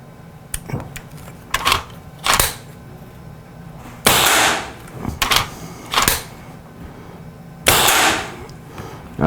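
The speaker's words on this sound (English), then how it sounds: "All right, so now I'm just shooting through the same hole." An Accuract air rifle fitted with a Skout STX conversion fires repeatedly on a range, producing sharp, close cracks at irregular intervals, about eight shots over several seconds, with quiet gaps between and no talk.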